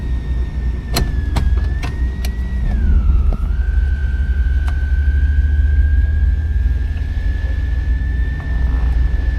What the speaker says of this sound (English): motor sounds good, nothing crazy, no belt squealing